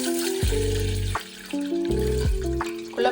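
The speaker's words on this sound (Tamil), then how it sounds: "அதுக்குள்ள தண்ணியை விட்டுக்கணும்." Water pours into a bowl containing salt, ready for cut banana blossom, a close, fairly loud splashing stream with shifting pitch that rises and drops as the bowl fills in short bursts.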